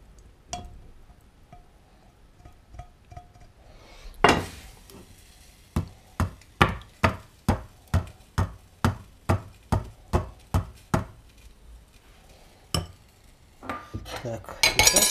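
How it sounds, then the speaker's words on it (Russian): Boiled canned beef stew strained through a metal sieve: a close run of about a dozen sharp metallic clinks and taps in a steady rhythm, with softer clatter before and after and no talking. "Теперь возьмем ситечко и посмотрим, отцедим"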